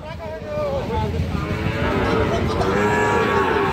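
A Sahiwal bull calf at a cattle market in Parbatipur, Dinajpur, gives a long, low, drawn-out moo close by, with steady market background noise underneath.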